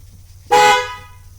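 Horn of a Honda Ridgeline pickup sounding once as its horn wire is grounded, a loud, close, steady blast of about a third of a second that cuts off sharply after brief quiet.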